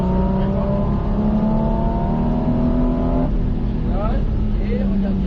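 Porsche 718 GT4RS on the Circuit de Haute Saintonge accelerating hard, loud steady engine note climbing through the revs, briefly dropping at a shift, then pulling up again.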